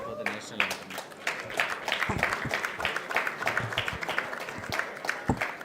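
Audience clapping in a hall at an IIT Madras event, a steady scatter of hand claps over several seconds, moderately close and mixed with some background voices.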